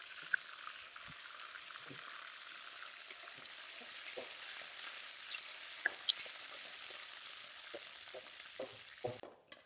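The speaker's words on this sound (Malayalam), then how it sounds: "ഈ ചെറുള്ളി നല്ല മൂക്കട്ടെ കേട്ടോ." Shallots fry steadily in hot oil while tempering a beef curry, a continuous close sizzle with scattered pops and crackles and a couple of brief stirring clinks.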